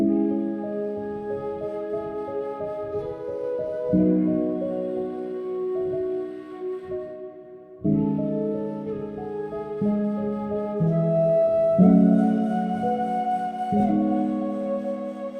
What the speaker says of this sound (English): Now, the piano and the flute together sound like this.